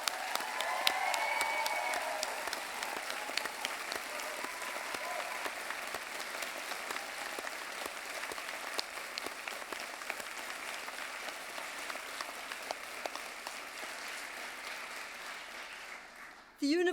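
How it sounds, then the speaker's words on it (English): Sustained applause from a large audience at a summer university graduation ceremony, a dense steady clatter of many hands lasting about sixteen seconds before cutting off abruptly. "can we give them all a round of applause?"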